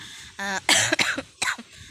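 A short run of harsh, throaty coughs, three or four in quick succession, loud and close with brief gaps between them.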